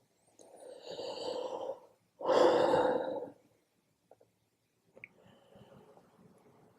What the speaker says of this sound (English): Now just take in a deep breath for me.